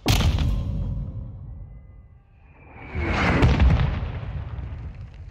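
Mortar fire in a Call of Duty MW2 campaign mission: a loud blast opens, its rumble fades, then a second heavy impact erupts with a broad roaring wash of debris that slowly decays.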